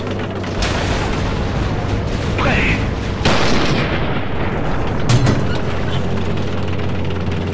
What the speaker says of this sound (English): he shoots the Crusader straight in the middle